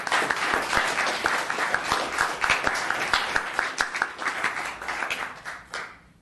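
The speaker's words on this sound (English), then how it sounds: "let's give a round of applause to the business of the month" Applause from the audience at a Los Gatos town council meeting, a steady wash of many hands clapping at close range that holds for several seconds and then fades away.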